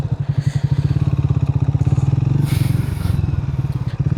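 A Triumph Speed motorcycle exhaust burbles at idle, steady and close, with rapid low pulses and a brief rise in revs near the middle.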